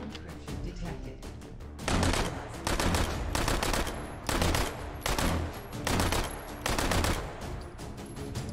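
Bursts of MP40 submachine gun fire in a first-person shooter game, loud and close, rattling out in repeated volleys with short gaps between them.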